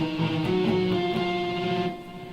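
A short run of plucked guitar notes in a string-skipping exercise jumps between strings in a quick, even pattern, with no talking, then fades out near the end.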